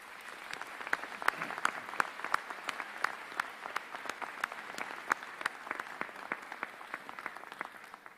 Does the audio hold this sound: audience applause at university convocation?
yes